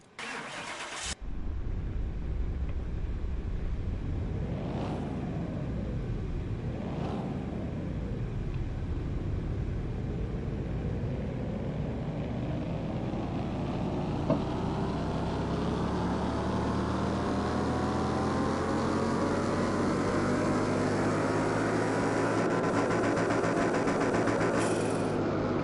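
Four-cylinder car engine in Car Mechanic Simulator 2021, a Griffin Tyro, starts up, blips twice, then climbs in a long continuous rev on a dyno, loud and close with a steadily rising pitch and no talking.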